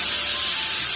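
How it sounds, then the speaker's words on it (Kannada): A pressure cooker cooking chickpeas lets off steam in a brief, loud, sustained hiss, airy and bright, with no voices over it. "2 ವಿಜಿಲ್ ಬಂತು"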